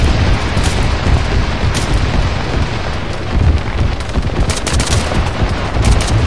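Dense Arma 3 combat gunfire, continuous rattling bursts with heavy booms from mortar impacts, loud and close, with no talk.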